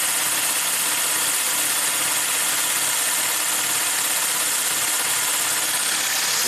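A 2015 Lexus IS250 V6 idling high in limp mode with the mass airflow sensor unplugged gives off a steady, broadband engine drone that holds constant throughout, loud and close, with no speech.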